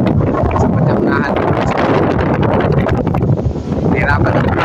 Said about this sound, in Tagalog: Hirapan dito sa camera kasi mahangin po.